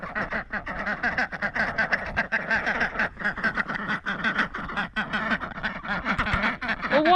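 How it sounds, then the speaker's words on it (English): A small flock of geese honks and cackles continuously at moderate distance, with overlapping, rapid calls and no speech. "Well, what do you think of the geese?"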